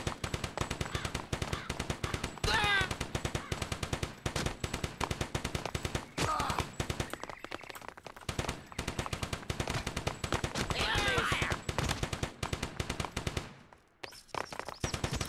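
Rapid bursts of gunfire from the Cannon Fodder 3 video game, dense and continuous with machine-gun rattles and louder volleys throughout, up close and alone.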